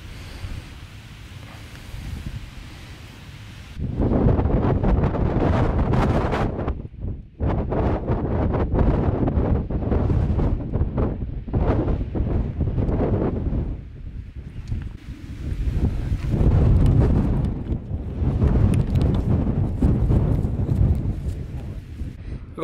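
Strong wind buffeting a hilltop in the Peak District, roaring in loud sustained gusts against the microphone with brief lulls, after a calmer opening few seconds.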